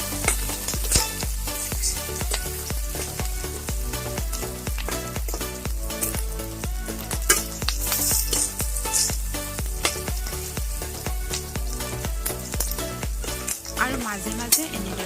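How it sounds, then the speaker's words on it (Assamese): Green chilies with garlic and ginger paste fry in oil for a fish dish while being stirred, giving a continuous close sizzle broken by rapid, rhythmic clicks and scrapes of a spatula against the pan. "কাটি থৈ দিয়া কেঁচা জলকীয়া, নহৰু বটা আৰু আদা বটাখিনিও তেলত দি দিছোঁ"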